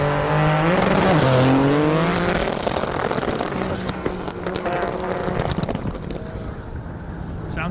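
A loud, roaring drag race car engine revs up and launches down an airport airstrip, its pitch rising then fading into rumbling noise and wind.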